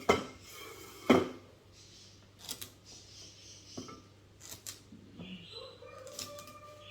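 Knife chopping celery on a board while making a spaghetti stir-fry, a few sharp, sparse cuts and taps spread irregularly, with quiet talk between them.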